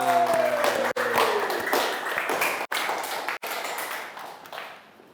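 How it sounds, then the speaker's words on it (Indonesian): Audience applause in a university teaching session greets a student group about to present, a dense burst of clapping that follows a few brief ringing tones and gradually thins and fades over several seconds. "Kita beri tepuk tangan"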